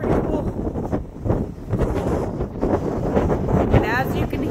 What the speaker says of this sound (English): And as you can hear, it's really windy today.